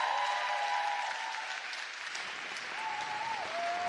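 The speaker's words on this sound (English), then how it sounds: "Can we have another round of applause for them?" Steady audience applause for cat show models, a dense wash of clapping with faint voices and a few whoops carrying over it, dipping briefly midway before swelling again.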